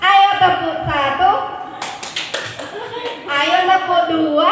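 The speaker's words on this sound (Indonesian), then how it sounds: "Ayo tepuk 1." A short burst of several sharp hand claps in quick succession by a group of teachers doing a counted clapping exercise, with people talking or singing before and after.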